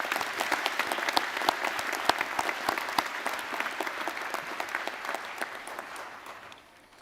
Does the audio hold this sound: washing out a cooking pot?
no